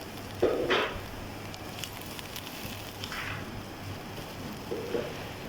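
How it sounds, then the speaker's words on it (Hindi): Chopped garlic and ginger fry in a pan with softened onion, giving a faint, steady crackle and a few brief louder sizzling bursts near the start and end. "तो अब मैं इसमें लहसुन अदरक चॉप डाल, थोड़ा सा इसको फ्राई करेंगे ताकि इसकी खुशबू बाहर आ जाए।"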